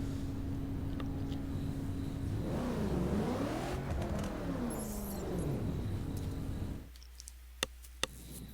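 A Koenigsegg Agera R racing at Sebring International Speedway in The Crew video game: loud, sustained engine note sweeping up and down through gear changes, then cutting to a low hum with a few faint clicks near the end.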